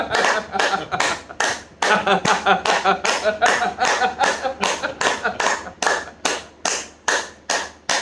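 A group claps hands together in a steady, rhythmic pattern, with sharp, even bursts that repeat about twice a second for several seconds, loud and close, with no talking over it.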